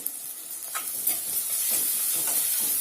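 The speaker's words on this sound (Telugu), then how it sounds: "ఈ పేస్ట్ కూడా బాగా వేగాలి నూనెలో ఉల్లిపాయలతో పాటు ఈ పేస్ట్ కూడా వేగితే మనకి చాలా టేస్టీగా ఉంటుంది" Ginger-garlic paste frying with onions in hot oil for egg biryani curry, a steady bright sizzle with a few soft stirring scrapes, close and continuous with no talk.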